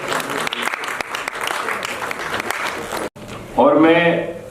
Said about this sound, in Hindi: आप लोग जोरदार तालियों से उनका स्वागत करें